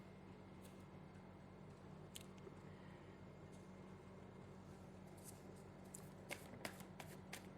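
Tarot cards are shuffled in quick, soft riffling bursts, sparse at first and then more frequent and slightly louder toward the end, over a faint steady hum with no talking.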